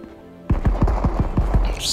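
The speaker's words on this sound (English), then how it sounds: "steps and gunfire everywhere." Footsteps and gunfire in the shooter game Marauders: a burst of about six evenly spaced heavy thuds or shots begins abruptly after a silent start, loud and close, with a brighter hiss rising near the end.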